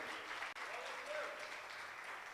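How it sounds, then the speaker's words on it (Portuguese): A church congregation applauds, a steady wash of many hands clapping, faint and distant, with a brief dropout near the start. "aplauda o Senhor novamente"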